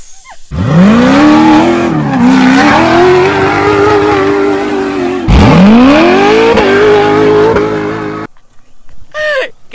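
A 600-plus-horsepower off-road vehicle of about 3,600 pounds, with built transmission, transfer case and axles on a lightweight chassis, roars loudly and close through two long revs that sweep upward, with tire squeal, then cuts off into near silence.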